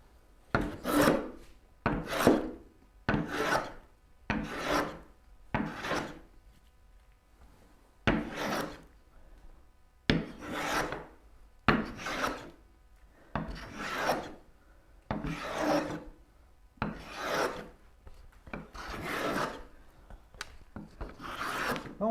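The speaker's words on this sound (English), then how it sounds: "I am planing against the grain every once in a while, like right now." A hand plane cutting a wooden board against the grain while a turning bow saw is being built, giving a series of about a dozen rasping strokes in an uneven rhythm, close and distinct, each one a rough scraping swipe.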